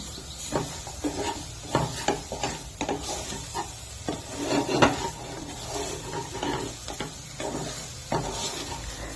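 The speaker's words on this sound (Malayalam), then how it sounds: "ഇനി നമുക്കതിലേക്ക് പച്ചമുളക് ഇട്ട് കൊടുക്കാം കുറച്ച് കറിവേപ്പില ഇട്ട് കൊടുക്കാം ഇനി ഇതെല്ലാം കൂടി ഒന്ന് ഇളക്കി യോജിപ്പിക്കാം" Green chillies and curry leaves fry in a pan for sambar while a spoon stirs them, giving irregular scraping strokes and knocks against the pan over a soft, steady sizzle, close by and with no talking.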